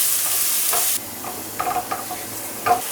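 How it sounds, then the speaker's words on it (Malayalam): Grated carrot frying in ghee in a pan, with a steady sizzle under a few soft stirring scrapes and clinks, close and moderately loud. "ഇനി ഇതും നന്നായിട്ട് നെയ്യിലൊന്ന് മൂപ്പിച്ചെടുക്കാം."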